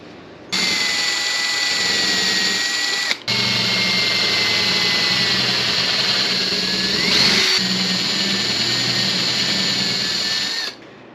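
A power tool bores holes into a wooden dashboard for a Fiat Spider, running as a loud, steady high whine for several seconds, briefly stopping, then resuming and running continuously before cutting off.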